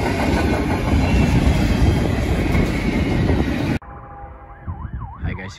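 A CSX freight train crawls slowly out of a siding. A steady, dense rumble of rolling rail cars fills the first few seconds, then cuts abruptly to quieter background with a wavering siren-like tone.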